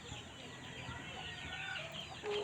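Chickens cluck softly in the background of a newly cleared rural yard, a steady low chatter of overlapping calls lasting a couple of seconds.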